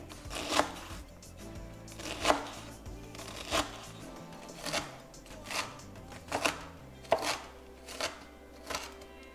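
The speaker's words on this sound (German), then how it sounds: "Den Porree nur noch schneiden und den schneiden wir auch ganz fein." Leek being finely chopped with a knife for spaghetti aglio e olio, a steady series of sharp blade taps on a cutting board at a fairly even rhythm, close up and alone.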